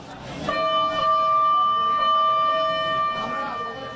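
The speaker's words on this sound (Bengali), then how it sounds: "তুহিনের মরদেহবাহী অ্যাম্বুলেন্স রওনা হয় গ্রামের বাড়ি" An ambulance carrying a body sets off toward a village in Mymensingh, its siren wailing in a sustained, steady tone that rises in and holds loud and close for several seconds.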